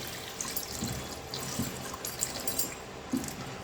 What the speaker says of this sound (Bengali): এখন আমরা মাংসটা ভালো করে ধুয়ে নেব